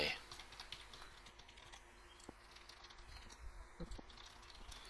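Quick, light clicks of a computer keyboard as an IP address is typed in while setting up a new server, faint and close, with irregular keystroke bursts in a quiet room.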